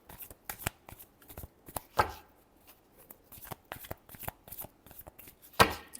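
Tarot cards are shuffled in quick riffling bursts and slaps, close and crisp, with brief pauses between runs and a louder riffle near the end.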